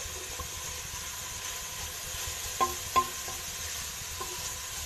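Courgette frying in a pan gives a low, steady sizzle with a couple of soft utensil knocks, close and quiet, with no talking.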